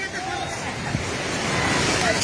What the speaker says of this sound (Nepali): पानी ढुङ्गामा उलिसकेको छ